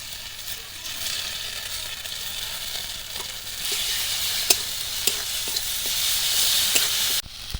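Cumin and mustard paste fries in a pan with a continuous close sizzle, swelling louder midway, while a spoon scrapes and knocks against the pan in occasional sharp strokes.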